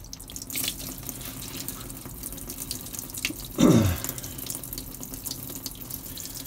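Water gushing from a disconnected engine hose on a 2000 Mercruiser 5.7L boat engine during winterizing, a steady close trickle with a louder splashing surge partway through.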